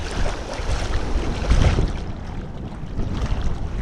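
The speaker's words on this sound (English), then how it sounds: "Let's see if we can get the boys catching some waves." Ocean surf rolls and washes onto a beach in Broome, a broad steady roar mixed with wind buffeting the microphone, swelling slightly midway and heard alone without voices.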